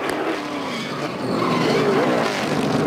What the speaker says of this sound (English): Left rear tire just blew out.